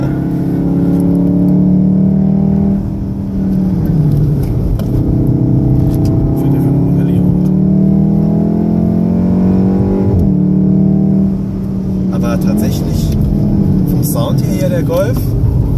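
A Golf 7 R engine on a wet track drones steadily and loudly with rising and falling revs throughout, while people talk over it inside the car.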